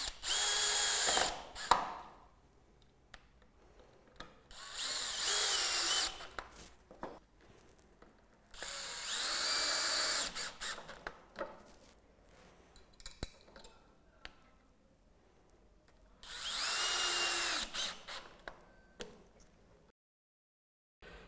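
A power drill drives screws into the brackets of a Velux top-hung roof window in four separate bursts of whirring, each a few seconds long, with short quiet gaps and faint handling clinks between them.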